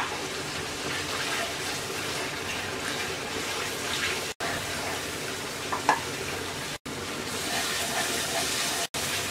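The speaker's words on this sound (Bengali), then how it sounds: "দিয়ে দিচ্ছি নারকেল বাটা 4 টেবিল চামচ, দিয়ে আবার মশলাটা ভালো করে কষিয়ে নেব।" Spice paste with coconut paste frying in a pan for duck curry, a continuous dense sizzle with stirring scrapes throughout, interrupted by a few abrupt silent gaps.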